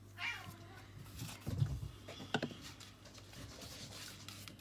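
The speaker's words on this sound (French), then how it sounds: "Mes chats sont complètement barges." A cat meows briefly and faintly near the start during a scrapbooking art journal session, followed by soft rubbing and scratching noises and light handling sounds.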